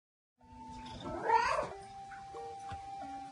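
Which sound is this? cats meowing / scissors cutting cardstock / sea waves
cats meowing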